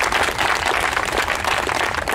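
A theatre audience claps for an actor playing Sir Proteus in Two Gentlemen of Verona: steady, dense applause from many hands, moderately loud and sustained without cheering or speech.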